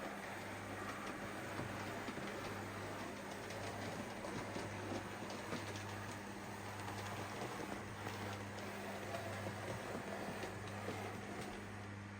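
A model railway locomotive runs up to a level crossing, giving a faint, steady motor hum with soft, continuous rail rumble and light clicking, quiet and close.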